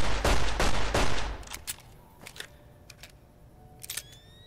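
Revolver reload in the Fallout video game: a burst of loud gunfire-like blasts at the start, then a run of sharp metallic clicks and clacks as the cylinder is worked, with a faint tone lingering underneath.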